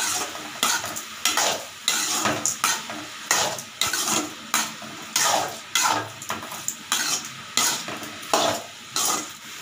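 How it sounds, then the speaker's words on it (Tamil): A spoon stirs cucumber stir-fry in a pan after sambar powder and turmeric are added, repeated scraping strokes in a loose rhythm over a soft sizzle, close and fairly loud, with no talking. "போட்டு எல்லாம் கிளறி விடணும்."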